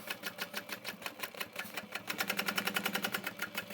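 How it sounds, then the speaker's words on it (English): A sewing machine stitches a Bella Bucket Bag seam in quick rhythmic bursts of needle clatter that speed up toward the end, close and clear with no talk. "And now I'm sewing from this direction"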